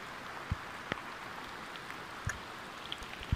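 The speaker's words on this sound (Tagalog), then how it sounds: "Kusog na dito sa ulan ay." Steady broadband rain hiss fills the scene, with a few scattered heavier drops or knocks standing out now and then.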